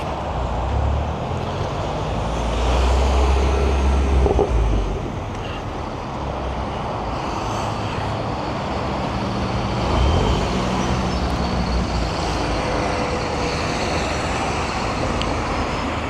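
Motorway traffic near an industrial area of Adeje roars past in a loud, steady wash of cars, buses and trucks, swelling now and then as heavier vehicles go by, with no voices.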